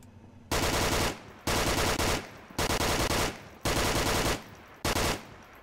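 Steyr AUG rifle in the Onward VR shooter fires five loud, close full-auto bursts of about a second each, separated by short pauses.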